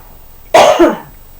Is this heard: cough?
yes